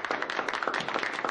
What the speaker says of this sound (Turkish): Cuma'yı alkışlıyorum.